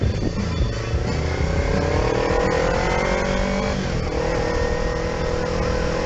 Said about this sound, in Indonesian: ini mobil LCGC Astra Daihatsu Ayla